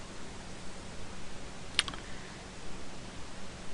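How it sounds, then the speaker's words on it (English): A single soft keyboard key click, brief and quiet, standing alone against a faint steady background hiss. "we press Y on the keyboard"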